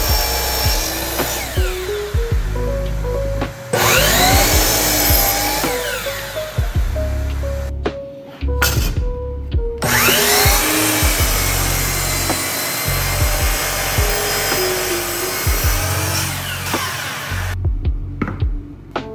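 Miter saw making angled 6.5-degree cuts through soft cedar lamp pieces: repeated loud whining bursts with falling pitch, each ending abruptly, separated by short pauses and clunks.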